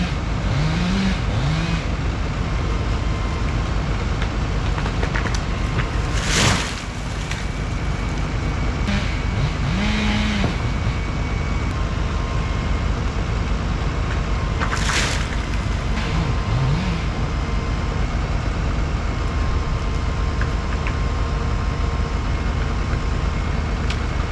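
A Vermeer SC70 TX stump grinder working through spruce stumps, its engine droning loud and steady without a break, with brief whining surges as it cuts.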